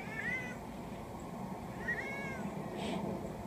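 A cat meows twice, a short rising-falling call near the start and another about halfway through, moderately close over a quiet room background, with no one talking.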